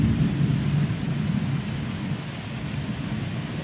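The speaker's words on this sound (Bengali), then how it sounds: "মেঘ কিন্তু ডেকে যাচ্ছে আর বিদ্যুৎও চমকাচ্ছে" A low, continuous rumble of thunder rolls through a storm over the Sundarbans, loud and steady, with a broad wash of rain-like noise and no voices.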